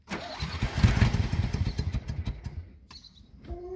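A ZAZ-965 Zaporozhets engine fresh from its first service in 20 years cranks and catches, sputtering into uneven, close revving pulses that fade toward a rough idle.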